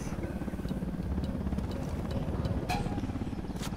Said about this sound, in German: Lass mich ran, der Heli hebt ab.